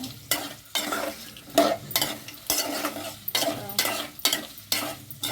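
Radish and vegetables for sambar are stirred in a pan, a spoon scraping in repeated strokes about once a second over a steady sizzle, close and fairly loud with no talking.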